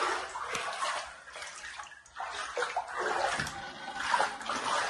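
Water sloshes and splashes in uneven bursts as household items are scrubbed and washed clean after a flood, the running water fairly close and steady without speech.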